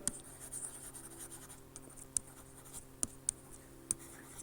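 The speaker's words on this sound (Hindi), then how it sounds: "अब देखें इसकी एग्जाम्पल लिखता हूँ।" Marker or chalk tapping and scratching on a classroom board as an example is written out during an accounting lecture, a few sharp faint ticks over quiet room tone with no talk.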